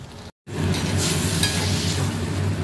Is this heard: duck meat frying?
yes